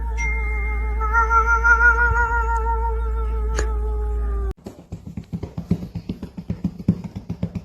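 A cat lets out a long drawn-out wavering meow or howl, cut off abruptly and followed by a run of soft rhythmic thumps or purring pulses.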